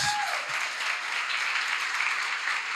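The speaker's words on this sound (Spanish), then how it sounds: "¿qué tal si le das un aplauso a Dios?" A church congregation applauds during a worship service, a fairly soft, even wash of clapping heard from a distance for a few seconds.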